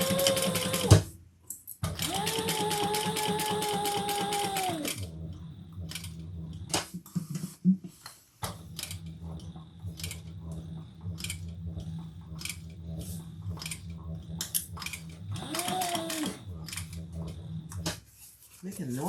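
A sewing machine fitted with a zipper foot stitches leather and vinyl for a crossbody bag, running in loud sustained bursts with a whirring hum, broken by pauses filled with clicks, handling noises and a short spoken remark.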